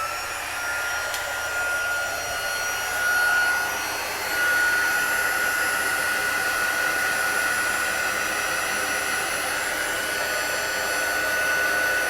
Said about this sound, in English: I'm just going to take my heat gun like normal and melt that embossing powder